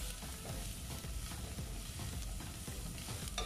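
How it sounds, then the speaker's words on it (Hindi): Garam masala, turmeric, red chili and cumin powder fry in a pan for a beef and turnip curry, giving a soft, continuous sizzle with faint stirring scrapes and no talking. "इसके साथ इसको भूनेंगे।"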